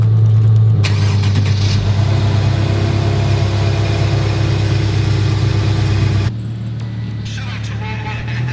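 Nissan 350Z HR engine idling steadily after a cold start, a loud close rumble with a high fast-idle drone that drops to a lower, quieter idle near the end.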